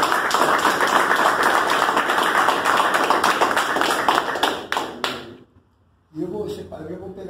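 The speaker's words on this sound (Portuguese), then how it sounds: "Muito obrigado, salve de palmas." Audience clapping after a seminar held in the dark, a lively round of applause from a room full of listeners that fades out, followed by someone speaking.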